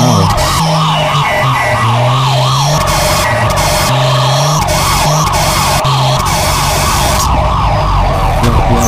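A fire truck siren in a video game wails loudly and continuously in a rising and falling pattern over a steady engine drone, with no talking.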